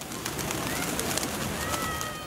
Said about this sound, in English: And the white pigeons of Mazar are part of it.